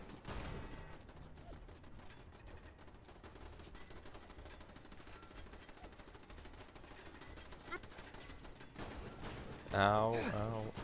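Rapid automatic gunfire in the video game Fallout London, a sustained dense crackle of shots running continuously for most of the stretch, followed by a short louder burst near the end.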